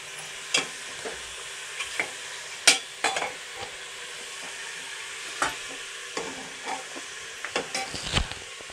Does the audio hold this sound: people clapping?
no